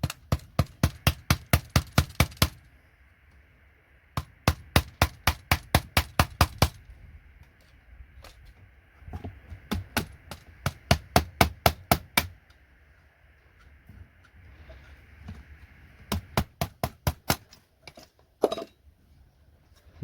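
Rapid metallic hammer blows on a chisel stripping gold pins from a scrap computer connector, arriving in loud, fast bursts of about eight to twelve sharp strikes with brief pauses between runs.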